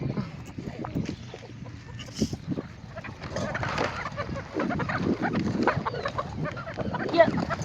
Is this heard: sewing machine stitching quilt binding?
no